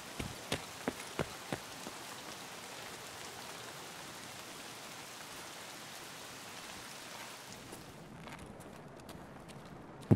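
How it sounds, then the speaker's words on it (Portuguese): Steady rain falls outside in the video game Escape from Tarkov, a constant hiss throughout, with a few sharp clicks near the start and the rain thinning toward the end. "O pior, cara, que tá chovendo lá fora"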